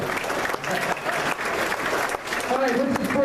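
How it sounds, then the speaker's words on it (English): Audience applause at a raffle drawing during an event, steady crowd clapping throughout, with a voice and whistles or cheers rising near the end. "Give him a round of applause"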